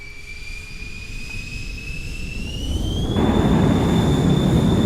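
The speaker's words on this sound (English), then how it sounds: "Looks like the F-15 is now lined up on the runway and ready to display." An F-15 jet lined up on a runway in Roblox, its engine note a steady high whine that slides upward as the thrust rises, then a much louder roar sets in partway through and holds.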